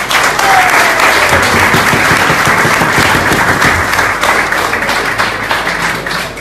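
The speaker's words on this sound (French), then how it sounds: "sous vos applaudissements" Crowd at a celebration of the CSM football club's sixteenth championship title breaks into loud, sustained applause, a dense unbroken roar of clapping hands that slowly eases toward the end.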